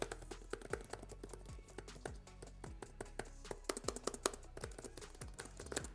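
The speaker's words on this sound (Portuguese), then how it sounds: "em termos das teclas, este é o som delas" Rapid typing on the keys of a Lenovo Yoga Slim 7 Pro X laptop keyboard, a steady stream of soft, close clicks and taps with no talking.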